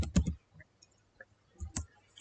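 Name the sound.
typing on a computer keyboard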